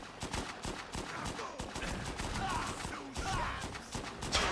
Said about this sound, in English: what is he deflecting bullets with his pan?